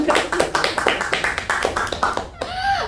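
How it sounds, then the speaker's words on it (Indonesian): Audience members at a seminar clap in a loose, uneven rhythm of separate claps, fairly close and moderately loud, fading out near the end as a voice begins to speak. "Tepuk tangan."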